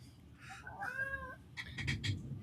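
A pet cat meows close by in a home, a single drawn-out wavering call followed by a few shorter, quieter mews, with faint room noise beneath.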